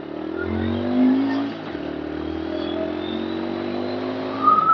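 Bluroc X-Bongo 125 scooter engine droning steadily while riding, a mid-pitched hum with a brief swell of revs near the start, continuous and close throughout.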